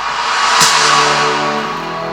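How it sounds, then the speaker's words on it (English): A crash cymbal sample from a beat-making session rings out alone, a bright wash struck once near the start that sustains and slowly decays over about two seconds. "I'll play only the crash like this."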